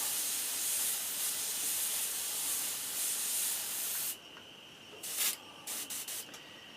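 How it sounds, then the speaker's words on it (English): An airbrush spraying acrylic paint onto a crawfish crankbait lure hisses in a continuous spray for about four seconds, then gives several short, quick bursts of hiss. "we are spraying acrylic and it does dry on the tip a good bit"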